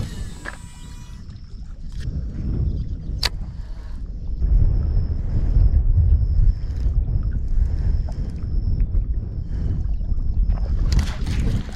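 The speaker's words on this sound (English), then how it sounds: "Sorry about that wind. I know it's pretty windy" Steady wind buffets the microphone at a riverbank or lakeside while fishing, a low, rumbling roar that swells and stays loud throughout, with a few faint knocks and a thin high tone.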